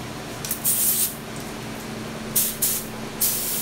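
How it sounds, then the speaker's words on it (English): Several short hissing bursts of a paint spray gun test-spraying on a 1971 Volkswagen Deluxe Bus, one longer followed by three quick ones, over a low steady hum. "Chris is just spraying a couple of test powders to kind of get the gun dialed in"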